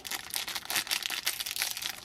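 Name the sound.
opening a plastic blind bag packet of a Hairdorables doll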